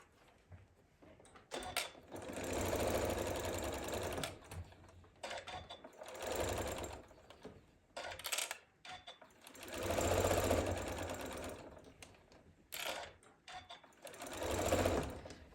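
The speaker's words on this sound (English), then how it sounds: "And now we're ready to stitch this part down." A sewing machine stitches down part of a Hunter Star quilt block, running in several close, steady bursts separated by brief pauses.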